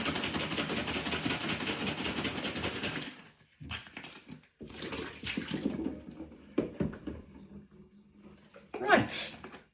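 Water runs loudly from a tap into a salad cream bottle being rinsed out, a steady gushing stream for a few seconds, then quieter splashing and shaking with a sharp burst near the end.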